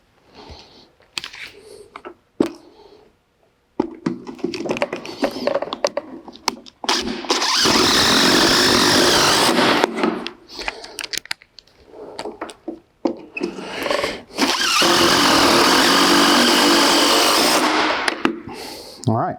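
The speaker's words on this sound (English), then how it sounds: "once you get your rafter screwed down, you screw down the same on the back" A power driver sinks screws through a wooden rafter into a beam in two long, loud, steady whirring bursts, with shorter clicks, knocks and handling noises of tools and screws between them; a person talks briefly.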